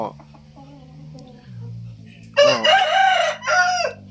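A young fighting rooster crows loudly close by, one long cock-a-doodle-doo followed by a shorter second call, after softer background noise and clucking.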